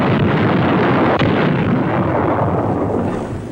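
Bangalore torpedoes and grenades exploding in battle during the Marshall Islands campaign, a loud continuous roar of blasts and rumbling that fades slightly at the end, heard alone.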